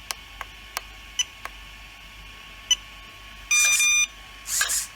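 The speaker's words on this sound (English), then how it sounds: "you give it an input and then you get double beep" A HOTRC CT-6A six-channel RC transmitter gives several short, faint ticks, then two distinct longer electronic beeps in quick succession, close and clear.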